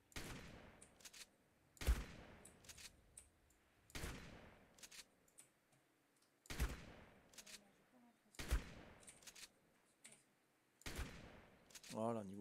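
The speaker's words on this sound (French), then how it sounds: "Ouais, ça tire de loin quand même, hein, le fusil à pompe." Shotgun firing in Ark Survival, six loud booming shots spaced roughly two seconds apart, each with a long decaying tail, alone apart from faint game sounds.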